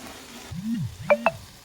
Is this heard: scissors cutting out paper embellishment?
no